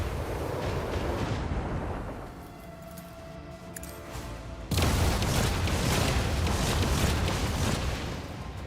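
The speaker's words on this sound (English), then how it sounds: "Fire the large batteries!" Starship large batteries firing in the game Rogue Trader: a loud, rumbling barrage that eases, then surges into a heavier, sustained roar of booming fire halfway through.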